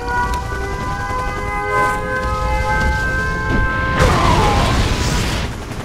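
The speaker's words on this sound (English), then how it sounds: "Warning, nuclear missile launched." A Red Alert 2 nuclear missile launch sounds as a sustained ringing, droning tone that swells and then gives way to a broad roaring explosion. The blast's rush dominates the final seconds.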